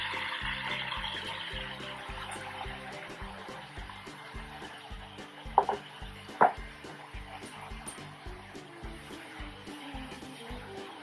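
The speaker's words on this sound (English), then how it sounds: "And the sound of the sizzle, that's something that really excites me." Water spinach (morning glory) sizzles in hot oil with a steady, soft crackling hiss, strongest at first, while background music plays and a few sharp clatters break through.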